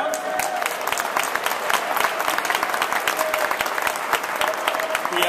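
Steady, loud applause from an audience at a charter schools rally, many hands clapping in a dense, continuous roar with faint crowd noise beneath.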